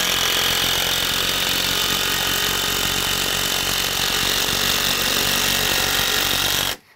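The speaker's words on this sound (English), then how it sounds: "I can just drive this in with my impact driver and I'm structurally sound forever" An impact driver sinking a structural deck screw into brand new lumber, a loud continuous hammering rattle up close that runs for several seconds alone and then cuts off sharply.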